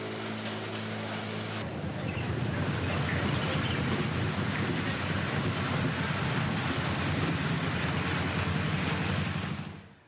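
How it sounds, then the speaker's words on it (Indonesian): Heavy rain pouring down steadily overnight over a capital city during flooding, a dense, constant roar of downpour on surfaces that starts abruptly and holds loud and unbroken until it fades at the end. "hujan deras yang mengguyur ibu kota semalaman suntuk"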